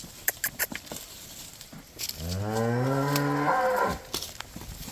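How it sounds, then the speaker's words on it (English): A single cow in Honduras lets out a long, loud moo lasting about two seconds, preceded by some scattered shuffling and outdoor noise. "look at mama cows, all these beautiful mama cows"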